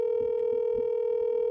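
A telephone call tone rings out as a steady, unbroken electronic hum, held level and clear for the whole stretch, with no voices over it.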